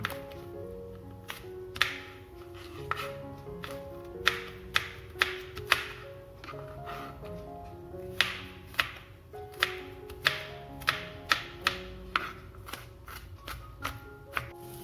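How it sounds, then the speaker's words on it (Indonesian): Rapid knife chopping of crushed shallots on a board, a steady series of sharp taps close by, with soft music playing underneath. "Lalu kemudian digeprek seperti biasa dan diiris-iris kecil."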